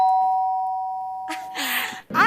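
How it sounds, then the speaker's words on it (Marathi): A doorbell rings indoors in a Marathi comedy serial scene, a steady electronic tone that fades before a voice speaks and the bell sounds again briefly at the end. "हळू ते बेल तुटेल आता."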